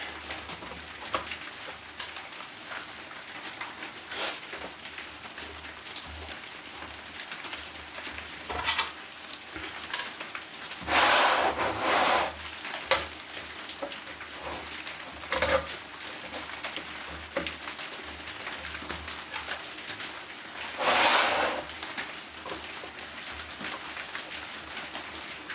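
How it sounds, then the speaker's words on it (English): Rain falling outside, a faint steady patter with a few louder gusty bursts of dripping and splashing, heard from indoors in a quiet room with no talk. "it's just started raining outside"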